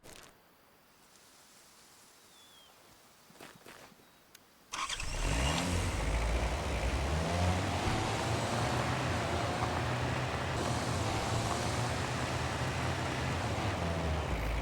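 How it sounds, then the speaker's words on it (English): A vehicle in the hunting game Way of the Hunt starts up after a quiet stretch, then its engine drones loud and steady as it drives along without pause. "we'll take our vehicle over to that question mark"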